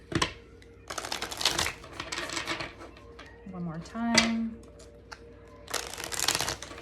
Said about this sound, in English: Let me shuffle these really quick again.